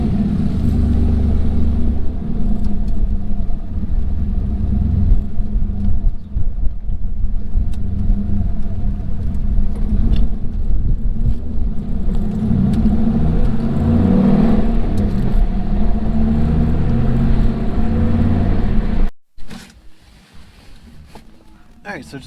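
A 1965 Lincoln car engine rumbles steadily while driving, a loud low drone heard from inside the car that cuts out near the end.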